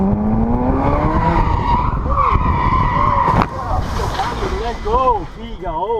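A Ferrari on a test run screeches with a loud, wavering tire squeal over engine roar, then a sharp broadband hit midway, followed by shorter squeals and rumbling noise.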